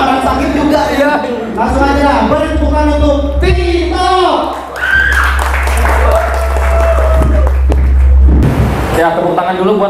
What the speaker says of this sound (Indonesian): Langsung aja beri tepuk tangan untuk Tito.